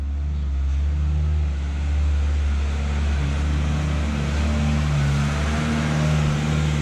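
Road traffic passing outside, a steady low rumble of vehicles with a constant engine-like drone filling the background throughout, no voices.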